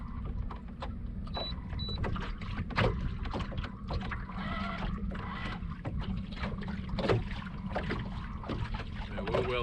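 A boat motor on a river channel runs continuously while the boat speeds up, a steady low drone with water slap and wind buffeting, dense and close with no voices.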